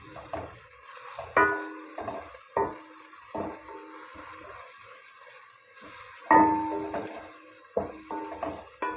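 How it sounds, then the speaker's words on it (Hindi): Ginger garlic paste fries with light-brown onions in a pan, a soft sizzle running beneath repeated scrapes and clinks of a spoon stirring against the metal, fairly quiet and close, with no talking. "अब इसमें 1 चम्मच अदरक लहसुन का पेस्ट शामिल करेंगे और इसको थोड़ा सा फ्राई कर लेंगे।"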